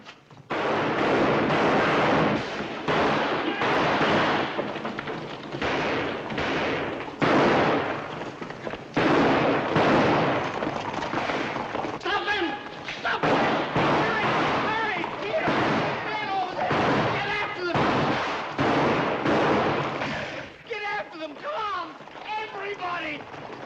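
Gunshots fired down a street in a 1939 western fill a busy scene, sharp bangs and pops scattered through shouting and talking voices, loud and frequent throughout.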